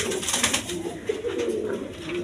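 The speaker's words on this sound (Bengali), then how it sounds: "এখানে এক পেয়ার ইন্ডিয়ান কাগজি কবুতর আছে" A pair of Indian Kagji pigeons cooing close by, soft repeated throaty coos over a low background rustle.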